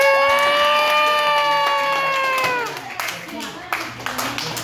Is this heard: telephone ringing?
no